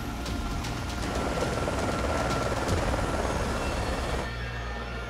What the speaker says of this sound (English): Dude, shoot that helicopter out of the sky.